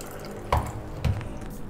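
Water from a tap pours into a cup holding creatine powder, a steady close splashing stream with two brief louder gushes.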